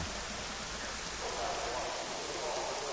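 Rain falls steadily during an LMP1 endurance race at the Sarthe circuit, a dense, even hiss of rainfall holding at one level throughout with a low rumble underneath and no voices.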